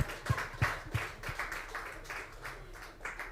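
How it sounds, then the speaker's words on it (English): An audience at a startup founders' meetup gives a brief round of applause: several distinct claps ring out near the start, then the clapping thins into a scattered patter. "Let's give him a round of applause"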